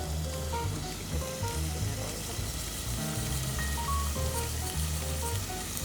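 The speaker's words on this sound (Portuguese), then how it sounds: "o arroz, você precisa fritar o arroz um pouquinho" Rice frying in a pan sizzles steadily in a home kitchen, a dense crackling hiss running throughout beneath a voice talking in Portuguese.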